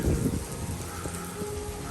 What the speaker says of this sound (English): It's still raining, of course, and it's going to continue to rain and be very windy